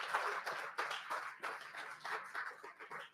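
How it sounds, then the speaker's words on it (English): Audience applause at a film development workshop event, a burst of clapping from a crowd that continues steadily at moderate distance for a few seconds. "And now a big applause."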